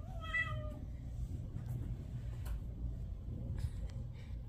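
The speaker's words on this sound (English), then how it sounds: "Am I gonna have talkative kittens?" Kittens meowing near the start in a short run of high, harmonic mews, with quieter scattered squeaks and small movement noises afterward over a steady low room hum.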